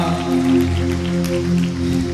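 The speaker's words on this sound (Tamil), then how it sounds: "நம்ம சத்தத்தை விட ரொம்ப சத்தம் போட்டுட்டு இருக்குது மழை." Heavy rain falls on a surface outside a church youth worship gathering, making a steady dense patter heard alone at moderate level for about two seconds, with sustained musical tones underneath.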